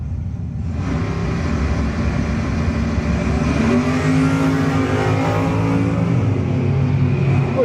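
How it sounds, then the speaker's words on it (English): A 1983 Pontiac Firebird and a Chevy Camaro drag race at a no-box 660 shootout, their engines roaring loud and continuous at close range and building in pitch as the cars accelerate down the strip. "Chevy Camaro 629 for Bercudo in the 83 Firebird."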